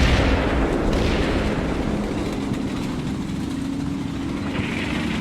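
Artillery fire in the WWII strategy game Combat Mission: a heavy booming rumble opens loud, then a long rolling low roar slowly fades over several seconds.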